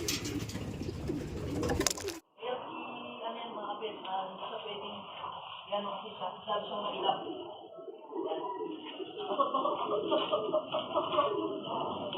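Racing pigeons coo steadily in a soft, overlapping chorus with occasional rustling, after a brief burst of louder noise at the start.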